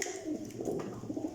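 Pigeons cooing at close range, soft throaty low coos rolling over one another in a brief, steady burst with no talk.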